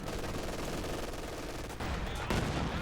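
Dense, continuous machine gun fire rattles in a video game battle, loud and unbroken, with layered explosions and combat noise filling the whole stretch.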